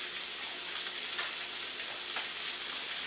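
Shrimp frying in a pan for tacos gives a steady, dense sizzle that holds at an even level the whole time, with faint crackles and no talking.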